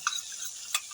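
Ground spice paste going into a pan of frying onions and tomatoes for a fish curry, with two quick scraping clacks of a spatula over a soft, even sizzle.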